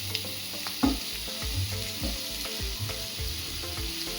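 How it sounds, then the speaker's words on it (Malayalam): Onions sautéing in oil left over from frying pomfret fish, a steady close sizzle with soft scraping stir strokes repeating every half second or so, nothing spoken. "ഫ്രൈ ചെയ്ത എണ്ണയിലേക്ക് തന്നെയാണ് സവോള വഴറ്റുന്നത്."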